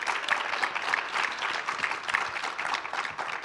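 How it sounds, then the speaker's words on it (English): Steady applause from the audience at a panel session on corporate climate action, a dense even patter of many hands heard from a moderate distance with no talking over it. "if you'll just join me in thanking and giving a round of applause to David, Tory, and Taylor."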